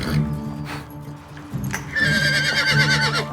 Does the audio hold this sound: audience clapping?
no